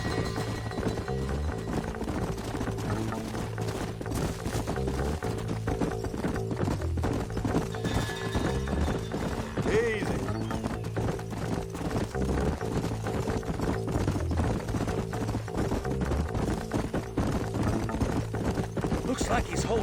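Horses' hooves clip-clop on the ground in Red Dead Redemption, a steady, fairly close rhythm of several horses that carries on throughout, with a neigh and voices talking over it.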